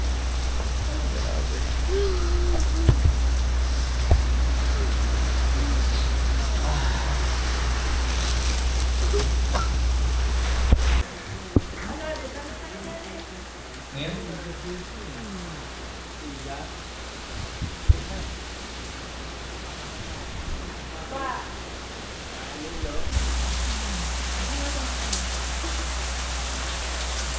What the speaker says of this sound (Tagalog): Sobrang lakas ng hangin, ulan, bagyo.